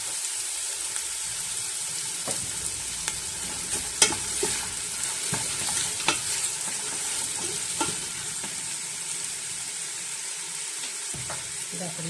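Onions frying in a pan for a Sri Lankan mutton curry, a steady bright sizzle with occasional stirring clicks and scrapes, close and continuous throughout.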